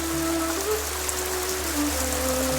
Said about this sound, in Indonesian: Luar biasa kan, deres kayak gini teman-teman airnya. Nah, jadi ini mata air.